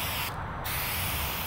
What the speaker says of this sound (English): put that down and then spray over top of it